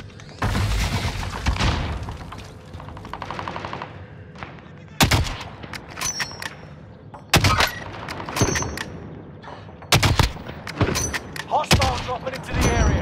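Video-game battle with a thrown frag grenade and gunfire: several loud, sharp blasts and bursts of shots spaced across the clip, with a dense rumbling noisy stretch at the start and a low game background between.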